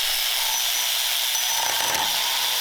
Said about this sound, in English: See if that electric ratchet will break that hog loose.